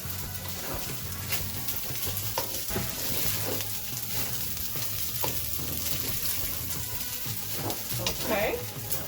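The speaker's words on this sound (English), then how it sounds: "we're going to stir that in there like that" Frozen vegetables sizzle and fry in a pan while being stirred, a steady loud crackle with scraping strokes throughout, prepared for Beijing beef with beef fried rice.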